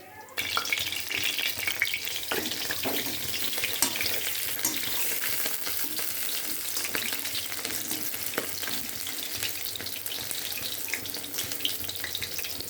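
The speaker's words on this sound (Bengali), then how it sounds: "এই যে এবার বড়াগুলো ভাজবো" Pumpkin flower fritters dipped in batter sizzle in hot oil over a slow flame, a continuous close hiss and crackle with occasional sharper spatters and faint clinks, no voices.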